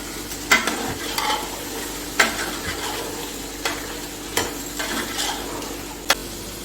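Tomatoes added to crushed ginger and garlic frying in a pot for chicken chana pulao, a continuous close sizzle broken by regular sharp knocks and scrapes of a spoon stirring against the pot.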